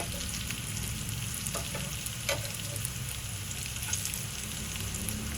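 Drumstick leaf vadis shallow-fry in oil in a pan, giving a steady, close, even sizzle with faint crackles and no talking.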